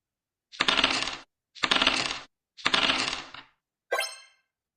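A computer dice game plays its dice-roll sound effect: three matching bursts of rattling clatter in a steady rhythm, then a shorter, brighter jingle, with no voices.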